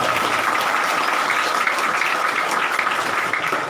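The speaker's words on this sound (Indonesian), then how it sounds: "Tepuk tangan untuk Ustadz-Ustadz di Indonesia." Steady, dense applause from an audience at an Islamic sermon gathering marking a haul commemoration, clapping for Islamic teachers; loud and continuous throughout without a break, with no speech standing out.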